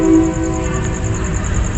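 A century-old train rumbles nearby with a low mechanical drone and a sustained tonal hum, steady and fairly loud.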